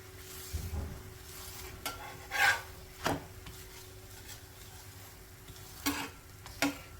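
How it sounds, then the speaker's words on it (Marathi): A jaggery-stuffed gulpoli flatbread roasting on a hot pan, with a few short, scattered scraping and sizzling bursts as it is pressed and turned, set against a quiet kitchen background with no talk. "अशी सगळ्या बाजूनी एकसारखी भाजून घ्यायची"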